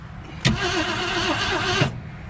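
A Ford Galaxie engine with a broken valve cover gasket turns over in one loud, rough burst of a little over a second, then drops back to a low background hum.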